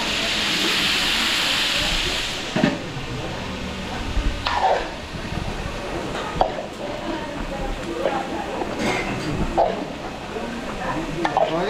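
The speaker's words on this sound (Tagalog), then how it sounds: "Gisa na tayo ng bawang sibuyas." Garlic and onion sautéing with meat in a pan at a catering job in Apalit, Pampanga: a steady oily sizzle with repeated scrapes and clanks of a stirring utensil, close and fairly loud, with faint voices in the background.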